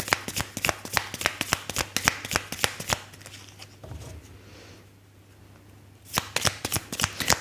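Tarot cards handled and shuffled in quick, crisp riffling slaps, close by, pausing briefly in the middle before the rapid card-snapping resumes.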